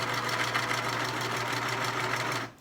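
A sewing machine runs steadily, stitching a seam on a pleated fabric face mask, its close, even motor whir continuing for a couple of seconds before stopping abruptly at the end.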